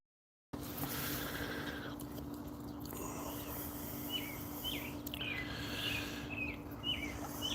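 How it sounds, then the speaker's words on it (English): Small birds chirp outdoors in short, repeated bright calls scattered through the clip, moderately distant, over a steady background hum and low murmur. "Do you hear the birds?"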